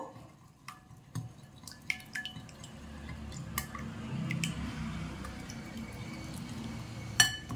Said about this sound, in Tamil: இத அப்படியே இந்த விஸ்க் வச்சு நல்லா இத பீட் பண்ணிக்கலாம்.